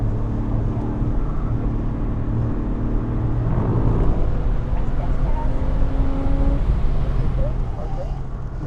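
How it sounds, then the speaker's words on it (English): Porsche 986 Boxster engine on a racetrack at MotorSports Ranch during a rev-matched downshift, a loud continuous in-car drone whose pitch rises briefly in a blip around the middle and then settles, with other cars audible nearby. "Finally, I got a proper rev match on that downshift."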